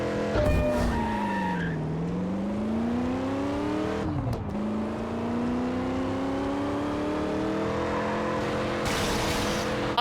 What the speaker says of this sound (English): It kind of sounds like a V8, but with tones of V6 scattered in here and there.